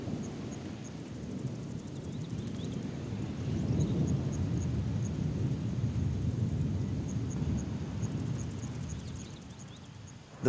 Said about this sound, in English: The welcome sound of thunder.